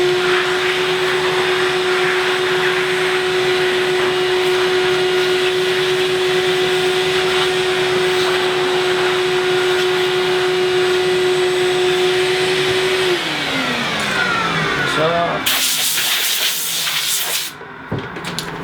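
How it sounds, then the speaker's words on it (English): A steady, loud vacuum cleaner whine runs continuously as it cleans dust off a wood cabinet during grain filling, then the motor pitch drops as it powers down, followed by a brief burst of hissing noise near the end. "we're gonna vacuum that off one time"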